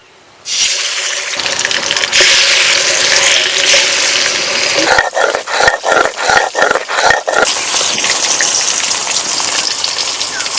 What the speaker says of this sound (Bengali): বাকি যে মাছগুলো ছিল এভাবেই ভেজে নেব।